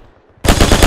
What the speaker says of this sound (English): We're taking so much fire on this fucking rock.